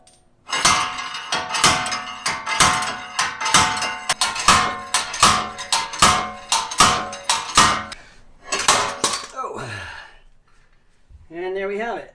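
Hammer pounding a rusty wheel hub onto a Land Rover: roughly twenty loud, close metallic whacks in a steady rhythm, a short pause, a few more blows, then a person speaks briefly at the end.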